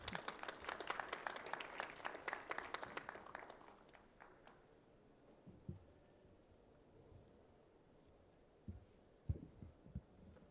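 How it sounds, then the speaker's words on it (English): Seminar hall audience applause at an energy investment event, rapid clapping for about four seconds that fades out, leaving a quiet room with a few scattered thumps and knocks. "Can we have a round of applause, please?"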